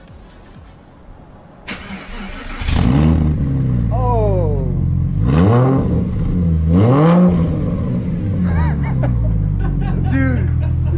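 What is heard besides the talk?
Porsche Boxster engine starting and revving with race headers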